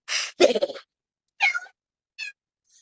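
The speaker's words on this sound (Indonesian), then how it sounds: "Dasar kucing nakal." A cat meows several times in short, separate calls: a hiss-like burst first, then a longer wavering cry and two brief, fainter meows, heard close with quiet gaps between them and no talking.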